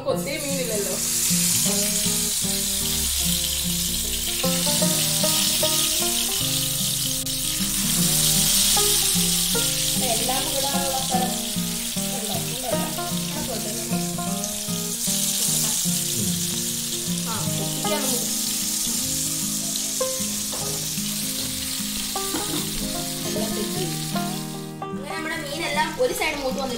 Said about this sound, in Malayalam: ഞാനൊരു പാനൊക്കെ വെച്ച് ചൂടാക്കി വെളിച്ചെണ്ണയൊക്കെ ഒഴിച്ചു വെച്ചിട്ടുണ്ട്. ഇനി നമുക്ക് ഇത് ഓരോന്നായിട്ട് അങ്ങോട്ട് വറുത്ത് എടുക്കാം.